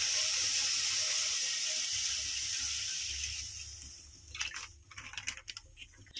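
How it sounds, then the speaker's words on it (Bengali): Milk pours into a wok to make chana barfi, heard as a steady close hiss of liquid that lasts several seconds, then fades into light clinks and splashes. "দিয়ে দিব দুধ"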